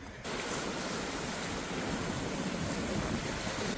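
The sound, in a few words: sea waves on the coast at Neapolis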